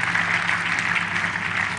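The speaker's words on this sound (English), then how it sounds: "Can we give another round of applause for the lecturer of the day?" A hall audience at an inaugural university lecture gives the lecturer another round of applause, dense and sustained clapping at full strength throughout.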